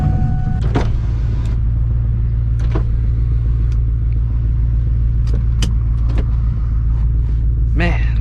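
A 1999–2004 New Edge Ford Mustang GT with a manual shifter drives with a loud, steady low engine rumble and road drone. Scattered clicks and knocks from the cabin sound over it, and a voice speaks briefly.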